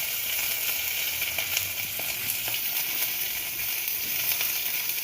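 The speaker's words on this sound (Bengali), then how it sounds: "একটু জিরে ফোড়ন দিলাম ব্যাস এরপর পেঁয়াজ দিলাম" Onion frying in a little oil with cumin seeds, a close, continuous sizzle and hiss with faint crackles scattered through and no talking.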